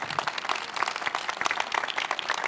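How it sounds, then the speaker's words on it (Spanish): Applause from a conference audience for a speaker named Gonzalo, a steady wash of overlapping claps that holds at an even level throughout, with no voices on top. "Otro fuerte aplauso para Gonzalo"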